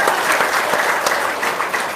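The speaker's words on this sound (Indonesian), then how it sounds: "Tepuk tangan dong." A crowd claps steadily and fairly close, a dense burst of applause that keeps up for the whole couple of seconds.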